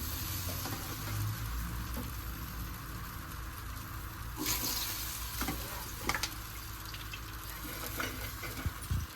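Gulab jamun dough balls fry in hot oil with a steady, close sizzle and light crackling throughout, no voices.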